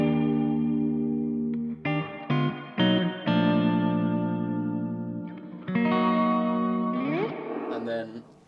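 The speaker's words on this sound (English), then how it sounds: "the that. reverb is, it's almost got a shimmer on it, so it continues" Big electric guitar chords played through a Victory Lunchbox amp with shimmering reverb, each strum ringing out and sustaining in a long, lush tail, with brief stops between chords and a final swelling wash.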